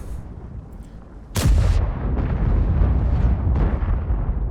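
A single loud, close cannon blast from a tank in a video game, firing at a Type 4 Heavy. A sharp report gives way to a sustained rumbling roar that fills the rest of the moment.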